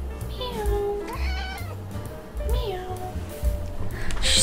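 Several high, drawn-out cat meows repeat close by, with a voice speaking briefly and some background rustling.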